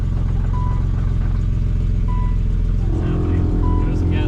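BMW E30 engine with a suspected blown motor idles and revs steadily throughout, a low continuous drone with a rise in revs near the end, while people talk nearby.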